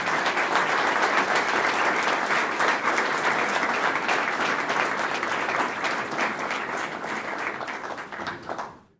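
Steady, sustained applause from a seated audience welcoming guests onto a panel at a summer speaker series, dense clapping holding for several seconds before trailing off.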